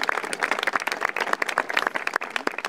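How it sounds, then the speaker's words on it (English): Wedding guests applaud the parents in a dense, steady burst of many hands clapping close by, filling the room with no voices standing out. "Let's have a round of applause for the parents."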